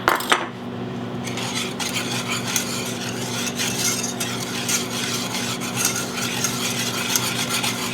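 A utensil scrapes and stirs continuously through egg yolks and sugar in a pan, a close, steady scraping with occasional clinks against the metal.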